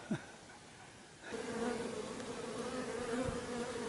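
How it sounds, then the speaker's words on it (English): Honey bees robbing and attacking a hive, a dense, steady buzzing swarm that swells in abruptly after a quiet second and keeps droning loud and close. "they'll kill all the bees in there and just literally rob the hive for themselves"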